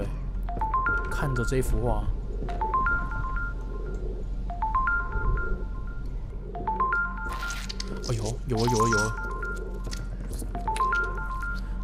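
Electronic phone tones in the horror game Supernatural, short stepped beeps like dialing followed by repeated ringing bursts, with someone talking over them and ambient game noise underneath.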